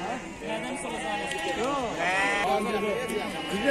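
Lambs bleat repeatedly at a busy livestock market, several overlapping calls near and loud above a constant hum of crowd chatter and people talking nearby.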